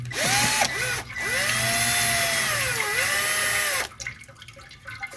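Power drill whirring near the pan of a 1985 Mercedes 300D as transmission filter screws come out, a short burst and then a longer run with pitch rising and falling, ending abruptly into quiet workshop sounds.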